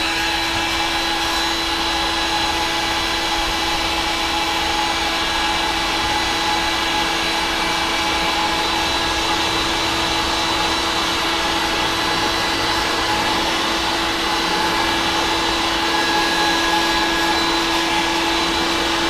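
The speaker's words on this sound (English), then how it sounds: "I never stop the heat gun" Heat gun blowing hot air continuously while warming material for a DIY hydroponic garden tower, a loud, steady close-up roar that never stops.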